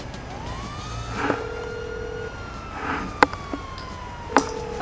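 A fire truck siren wails in the video game GTA 5, a steady rising-and-holding tone over the hum of street traffic, with a few sharp clicks and short beeps breaking in.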